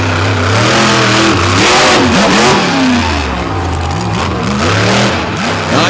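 The Maximus pulling vehicle at the South Bend Throwdown, its engine revving hard at full power after earlier trouble, loud and close with repeated rising and falling roars and no talk.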